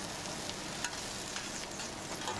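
Pad thai stir-frying at a Bangkok street food shop, a steady close sizzle with faint scraping and stirring and occasional small clinks, with no talking.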